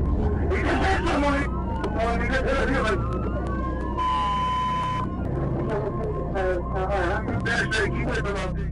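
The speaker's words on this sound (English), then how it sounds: "He immediately activated his lights and sirens" A police car siren wails with rising and falling tones over steady road rumble during a high-speed pursuit, accompanied by voices and radio-like chatter, the whole scene loud and busy.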